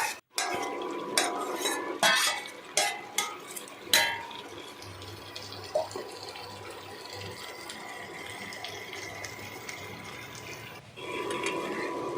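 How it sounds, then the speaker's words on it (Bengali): Potatoes for Kashmiri aloo dum drop one by one into a pot, giving several sharp knocks and splashes in the first seconds, followed by quieter stirring and kitchen clatter, with no talking. "এরপরে আমি আস্তে আস্তে আলুগুলো তার মধ্যে দিয়ে দিলাম"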